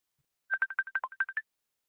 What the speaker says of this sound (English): Digital phone calls.